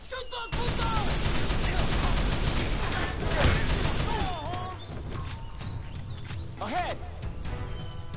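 Gunfire rattles through a shootout in Call of Juarez: The Cartel: loud, dense bursts of shots packed close together, with voices shouting over the fighting.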